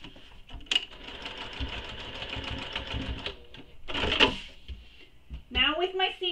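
A sewing machine runs a seam down to a corner of a Riva mini backpack, a steady mechanical whir with a couple of clicks and handling noises, while a person talks over it.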